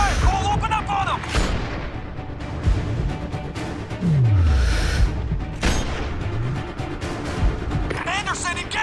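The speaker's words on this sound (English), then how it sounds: "We're taking fire." Gunfire and explosions in the video game Sniper: Ghost Warrior 2, with repeated gunshots and heavy booms during a firefight, loud and close, while soldiers shout orders over the shooting.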